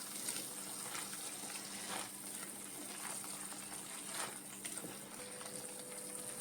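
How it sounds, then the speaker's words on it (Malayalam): Tamarind water poured into a pan of bitter gourd (pavakka) tamarind curry with coriander powder, giving a soft, steady trickle and gush of liquid heard up close at low level, with no one talking. "ഈ സമയം നമുക്ക് എടുത്തു വെച്ചേക്കുന്ന പുളിയുടെ വെള്ളം ഇതിലേക്ക് ഒഴിക്കും"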